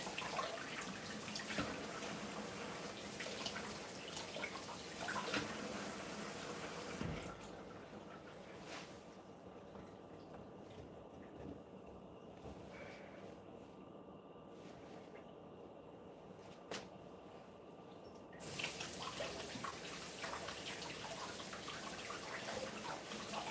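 Steady tap water runs into a kitchen sink as broccoli is rinsed under it, a broad, continuous splashing that drops to a quieter trickle midway and then returns at full flow.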